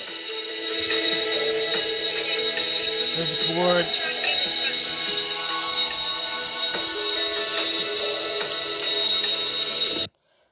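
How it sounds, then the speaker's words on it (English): A fire sprinkler system alarm rings out loud and steady, a continuous high electronic tone that runs for about ten seconds, with someone talking briefly partway through. "An alarm signal is sent."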